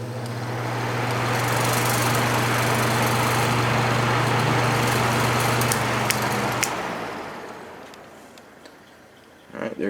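Patton U2-1272 fan running after a motor replacement, a loud steady whirring drone with a low hum that winds down partway through and fades, ending with a few faint knocks.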